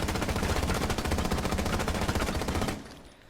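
Sustained rapid automatic gunfire in Rainbow Six Siege, fired at a wooden cabinet at Bartlett University, a loud continuous rattling stream that stops abruptly near the end, leaving a faint tail.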